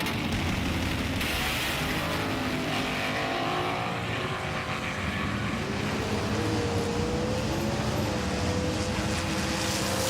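Two 2008 Mitsubishi Lancer Evolution cars race head to head, a loud continuous engine roar with rising and falling harmonic tones as the cars accelerate, with broad wind and road noise underneath.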